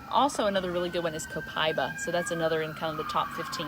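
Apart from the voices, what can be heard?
ambulance siren passing outside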